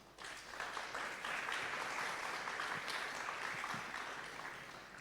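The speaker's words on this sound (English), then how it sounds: "So please take a moment to applaud our sponsors." An audience at a tech conference opening session in Thailand gives the sponsors a fairly quiet but sustained round of clapping, a smooth wash of many hands lasting about five seconds.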